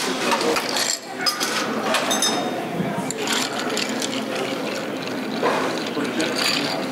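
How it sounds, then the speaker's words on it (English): Cracked ice clinks and rattles steadily as a tequila and mezcal cocktail with Angostura bitters is stirred at a bar, a dense continuous jangle close by with no speaking voice. "And I am going to stir it with cracked ice."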